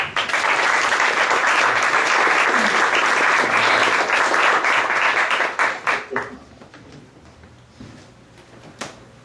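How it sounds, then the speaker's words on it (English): Loud, sustained applause from a crowd at a San Francisco VR meetup presentation, dense and even for several seconds, then thinning out to a few scattered claps. "Big round of applause"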